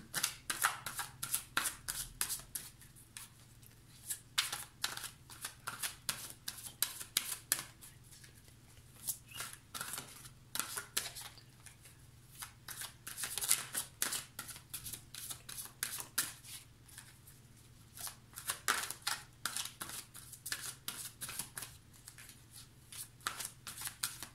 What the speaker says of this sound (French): Je vais tirer 4 cartes pour que il y ait plus de chances que ça parle à un plus grand nombre d'entre vous